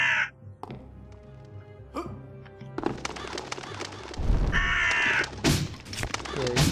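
Short harsh caws from a crow in the video game Unepic, mixed with other game sound effects and bursts of noise, with a person talking over parts of it.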